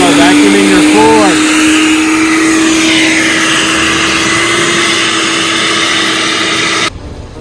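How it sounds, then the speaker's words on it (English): A vacuum cleaner runs continuously while vacuuming a car's interior floor, a loud steady motor whine with shifting suction tones as the nozzle moves, then it cuts off abruptly near the end. "plug it in the vacuum, and start vacuuming your floor"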